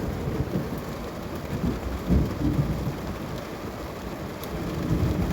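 Steady rain hiss with a low rumbling wash underneath, continuous and fairly close, with no voices.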